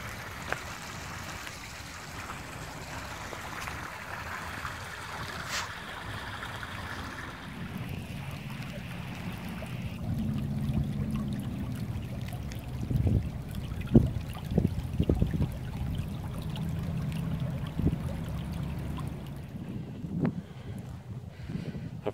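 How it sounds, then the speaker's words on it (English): A little brook near the Goldsborough Bridge battlefield in Goldsboro, North Carolina, trickles continuously at close range outdoors, with wind buffeting the microphone and no one talking. "Here's the little brook."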